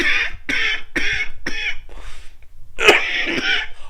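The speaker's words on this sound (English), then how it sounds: "I just need a moment to cough." A person coughs in a series of sharp, dry bursts, four quick coughs in a row, a short pause, then two or three more harsh throat-clearing coughs, close and fairly loud.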